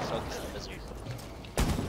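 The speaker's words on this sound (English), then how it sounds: "Flashbang going." A flashbang grenade goes off during a shooter game round, a single sudden loud burst that cuts in near the end amid ongoing game noise and nearby speech.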